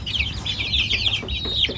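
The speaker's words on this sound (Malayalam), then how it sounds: "അപ്പോൾ ഇതൊക്കെയാണ് ഇപ്പോൾ നമുക്ക് കൊടുക്കാനുള്ള കോഴികൾ കേട്ടോ" Native country chickens, mostly black and white birds kept in coops for sale, cluck and chatter in close, continuous overlapping calls, with no people speaking.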